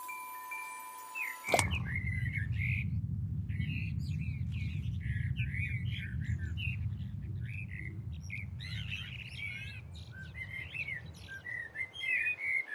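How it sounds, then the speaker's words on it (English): Bird calls, squawks and chirps, processed with a ring modulation effect, repeat in busy bursts over a steady low rumble of wind, with no one speaking. "you could hear that ring modulation taking effect on the bird sounds"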